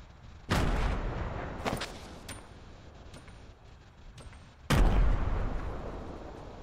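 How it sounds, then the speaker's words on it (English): Two heavy booming blasts from grenades thrown in the Fortnite video game, the first near the start and the second about four seconds later, each with a long rumbling tail and a few sharper pops in between. "I'm gonna be throwing some grenades today"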